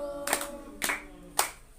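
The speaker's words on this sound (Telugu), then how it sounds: "క్లాప్స్" Three sharp hand claps spaced about half a second apart during a Sunday school gathering at a church, close and crisp against a quiet background.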